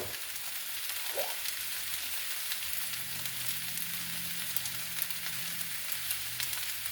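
Squash, zucchini, onions and potatoes fry in a pan over medium-high heat, giving a steady, even sizzle that continues unbroken at moderate level with no talking.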